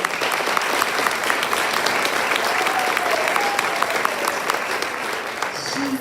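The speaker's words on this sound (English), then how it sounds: "Give her a round of applause for that." An audience at a high school senior awards ceremony claps for a graduating salutatorian, producing steady, dense applause that keeps going without a break for several seconds.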